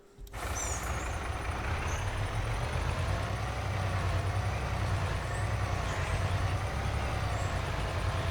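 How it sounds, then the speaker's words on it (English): A heavy truck rolls steadily in Farming Simulator 22, its engine drone and rumbling low end continuous and fairly loud throughout, with no talk over it. "Now bring the truck on over."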